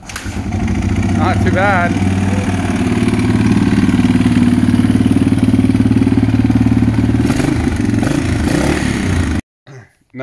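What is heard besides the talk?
Yamaha XT350 motorcycle engine with eBay fuel injection kit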